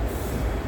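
The 22149 Ernakulam Pune Superfast Express running through the Bhor Ghat in monsoon, heard as a dense, loud, continuous rumble of wheels and carriages.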